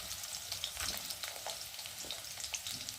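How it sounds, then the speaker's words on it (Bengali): Potatoes and green chillies frying in a pan, a steady quiet sizzle with soft stirring noises and no talking. "একটু ভালো করে ভেজে নেব।"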